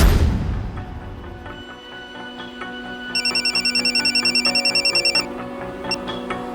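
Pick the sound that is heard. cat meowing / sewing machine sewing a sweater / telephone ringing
telephone ringing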